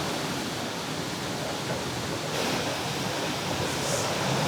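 River water rushing against an iron mill wheel that turns a millstone, heard as a dense, continuous roar of flowing water that stays loud and even throughout, with no talk.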